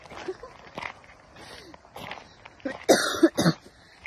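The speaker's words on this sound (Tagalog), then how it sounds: "Inuubo." A person coughs a few times up close, harsh bursts near the end after quieter shuffling and a throat-clearing sound.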